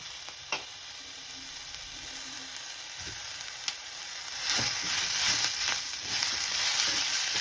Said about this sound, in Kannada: ಈಗ ಟೊಮೆಟೊ ಹಾಕ್ಕೊಳ್ತಾ ಇದ್ದೀನಿ.